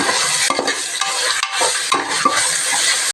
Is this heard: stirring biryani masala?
yes